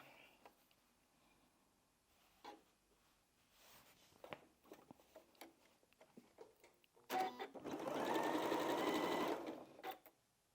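A sewing machine stitches a quilted strip onto a simple strippy bag, starting with scattered handling clicks and then running steadily for about two seconds, close and fairly loud, before stopping.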